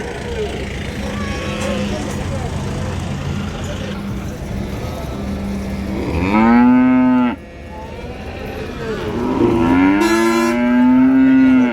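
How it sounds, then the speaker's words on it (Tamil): Native cattle calves at a cattle market give two loud, long moos near at hand, heard over a busy background of crowd chatter and vehicle noise. "இங்கே நாட்டு கண்ணுக்குட்டியெல்லாம் இருக்கு பாரு."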